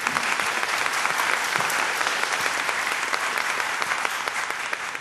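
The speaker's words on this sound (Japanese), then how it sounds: "感謝の意味を込めまして拍手していただけますか。" An audience at a conference welcome session claps in thanks to the sponsors, a dense, even burst of applause that stays loud throughout, with no speech over it.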